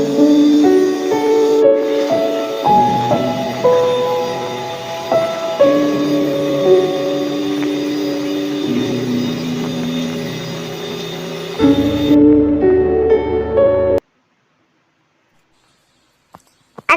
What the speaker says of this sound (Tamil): இப்ப பீட்டரை ஃபர்ஸ்ட் ஸ்பீட்ல வச்சு அந்த எக் எல்லாமே மிக்ஸ் ஆகிற மாதிரி